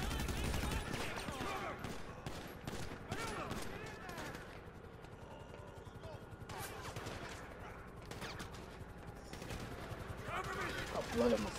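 Rapid bursts of video game gunfire crackle through a busy, dense mix, with shots clustered in quick volleys and a voice talking over parts of it.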